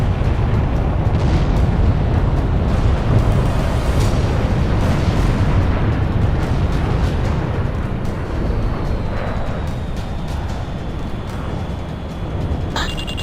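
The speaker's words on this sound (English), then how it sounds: "Our self-propelled artillery has moved into engagement." Heavy artillery fire and explosions rumble almost without pause in the Ace Combat 6 combat game. Deep booms roll loud and continuous, easing slightly toward the end, with a thin whine rising above them.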